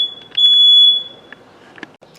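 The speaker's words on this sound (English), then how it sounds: "I tell you, I have too many fire alarms in this place" A smoke alarm set off by burning sage gives a loud, near, shrill electronic beep lasting under a second, followed by a few faint clicks and small knocks.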